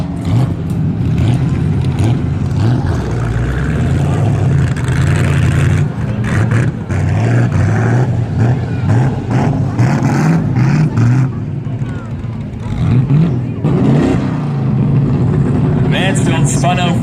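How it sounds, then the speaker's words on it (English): Modified-class race cars circle Valley Raceway during a feature race, their engines droning and revving loudly under continuous talk, with the roar swelling and easing as cars pass. "Cars all spin and slide on the front stretch as well."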